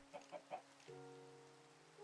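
A video-game chicken clucks three times in quick succession, faint and close, followed by a sustained tonal note.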